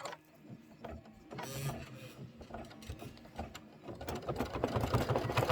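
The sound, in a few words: embroidery machine stitching a tack-down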